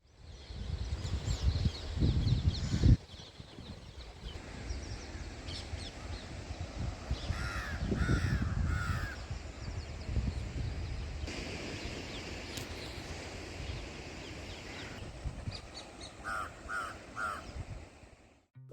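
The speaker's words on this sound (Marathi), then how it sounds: "लाटा वारा आणि पक्षी यांचा आवाज सोडून बाकी सर्व आवाज इथे वर्ज्य आहेत" Crows caw repeatedly in short harsh bursts, some near and some farther off, over a steady outdoor hiss of seaside wind and waves with occasional low rumbles, at Raj Bhavan in Mumbai.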